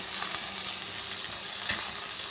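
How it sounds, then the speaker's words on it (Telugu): Tomatoes fry in edible cooking oil for a peanut chutney, giving off a steady, close, even sizzle and hiss with a few soft stirring bumps and no voices. "ఈ టమాటా కొంచెం మగ్గేదాకా ఫ్రై చేసుకోండి."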